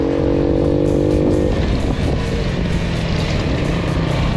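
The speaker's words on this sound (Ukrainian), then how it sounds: "Эндуро на альте, эндуро на дельте." A Delta 50cc enduro motorcycle rides along a dirt field road, its small engine buzzing loud and close, rising steadily in pitch as it accelerates.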